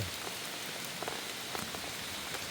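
Heavy rain pours down on a mountain forest campsite, a dense, steady hiss of drops striking leaves and surfaces with no break.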